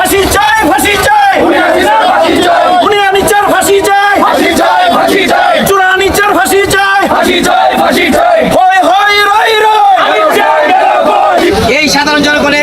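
Crowd of protesters marching through Akhaura town chanting slogans against the law minister, a loud continuous roar of many voices with rhythmic shouted calls close by.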